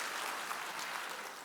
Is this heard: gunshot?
no